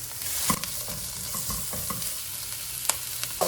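Mushrooms sizzle as they are stir-fried in a hot pan for japchae, a constant hiss with scattered spatula scrapes and clicks, close and without talk.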